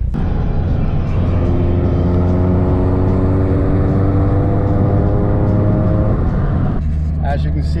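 A car fitted with a Phantom electric supercharger accelerates, its engine note climbing steadily in pitch for several seconds before easing off, loud and close, with someone talking over part of it.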